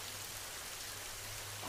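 A constant wash of heavy rain, a dense, even hiss with no voices, fairly soft and steady throughout.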